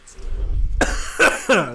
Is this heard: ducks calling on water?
no